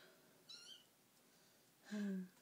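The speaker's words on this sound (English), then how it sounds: "you guys can probably hear my kittens" Two short kitten meows, a faint high one and then a louder, drawn-out cry, in an otherwise quiet room.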